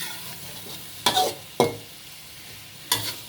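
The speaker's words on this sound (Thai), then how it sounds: "ผัดหมูไว้ก่อนเป็นสารตั้งต้น" Pork stir-frying in a pan, a continuous soft sizzle broken by three sharp scraping strokes of the spatula, close and without speech.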